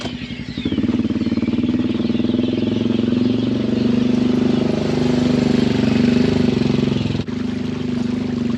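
An engine idles after an idle adjustment, a loud, steady low rumble held close and unchanging for several seconds, with a brief dip near the end.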